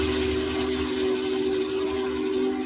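Union Pacific 844 steam locomotive pulling a train, giving a loud, steady hiss with a sustained whistle-like tone running throughout, close and continuous, with no talking.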